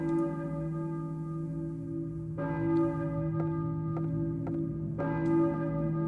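Church bell in the Silent Hill video game, tolling three times with long sustained ringing tones, moderately loud and alone, with no talking.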